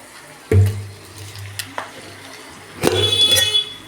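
Green chilies and curry leaves sautéing in hot oil for a chili pickle, giving a soft, steady sizzle broken by a few sharp stirring clatters near the pan.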